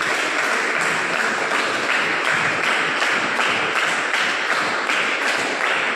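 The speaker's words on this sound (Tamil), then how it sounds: "ஒரு கைத்தட்டு வந்துக்கிடுமே, கைத்தட்டு" A church congregation claps together during a Tamil sermon, a dense, steady wash of many hands keeping a brisk, even rhythm, loud and close throughout with no talk over it.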